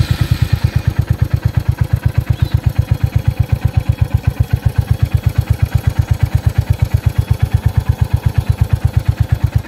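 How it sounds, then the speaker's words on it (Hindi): A Royal Enfield Hunter 350 motorcycle engine idles close by with a steady, even thumping pulse, loud and low, continuing without change and with no talking. "सो की अभी ऑन कर लेता हूँ बाइक का, एंड इग्निशन को भी अभी ऑन कर दिया हूँ, किल स्विच को, एंड स्टार्ट करके देखता हूँ"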